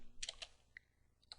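Keys on a computer keyboard clatter in a few quick clustered taps followed by isolated keystrokes, close and fairly quiet over faint background hum.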